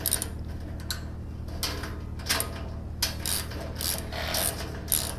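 Ratcheting clicks from fasteners being tightened during a 65PT installation with light material sides, coming in short close bursts of rapid metallic ticking separated by brief pauses.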